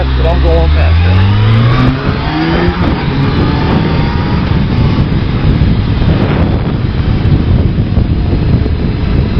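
A Kawasaki ZRX 1100 motorcycle ridden fast on the road, a loud steady engine roar heavily buffeted by wind noise, with a falling engine tone early on and a voice talking over it.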